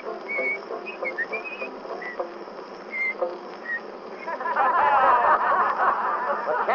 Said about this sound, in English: and this is how he whistles that tune